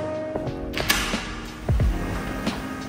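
A door creaks open nearby, with a few mechanical clicks and rattles from the latch and hinges.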